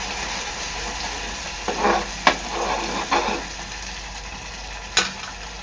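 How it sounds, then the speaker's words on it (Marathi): Spice paste frying in oil in a pan for fish curry, a steady close sizzle broken by a few sharp scrapes and clinks of a spoon stirring against the pan. "त्याच्यात वाटण टाकते मी तेला वाटण चांगलं शिजवून घ्यायचं आहे"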